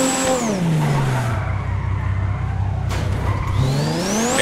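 A Porsche GT3 RS races in the GTA video game, its engine revving high, dropping to a low rumble with tires squealing, then climbing again in pitch, loud and close with no speech.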